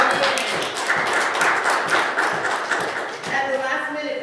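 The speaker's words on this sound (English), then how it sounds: "Can we please give them a nice round of applause?" Church congregation applauding its worship team, a dense patter of many hands clapping at once, moderately loud and steady, with an uneven rhythm that tapers slightly toward the end.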